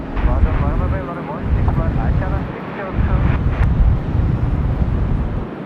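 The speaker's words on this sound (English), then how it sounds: "the A330 off to Bangalore is rolling runway 16 right" Jet engines of a Qantas Airbus A330 roaring as it rolls for takeoff on runway 16 right at Sydney Airport, a steady broad rumble heard at a distance under heavy wind buffeting on the microphone.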